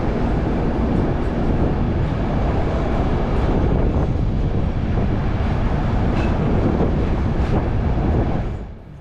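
Loud, continuous rumble of a sleeper train rolling through the night as it crosses into Bulgaria, steady roar with faint rail rattle, easing off at the very end.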